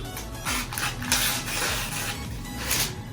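A Philips HR 2570 electric knife and scissors sharpener, 35 years old, whirs and grinds in short mechanical bursts as a knife is drawn through it, loud and close.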